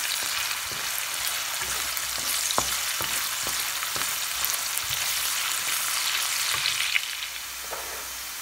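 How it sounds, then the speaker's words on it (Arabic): Onions fry in a little oil in a pan, giving a continuous close crackling sizzle with scattered small pops and no talking. "في المقلاة راني درت شويه تاع الزيت ودرت البصل، غادي نخلي حتى يتقلى يتدبل مليح يكون كولور"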